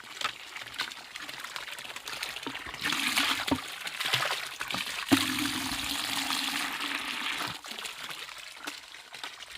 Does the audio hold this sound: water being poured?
yes